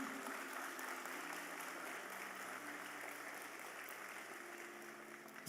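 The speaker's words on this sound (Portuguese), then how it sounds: "Dê uma salva de palmas a Jesus." Church congregation giving applause during a sermon, a faint, steady distant wash of clapping that continues evenly throughout without any clear individual claps.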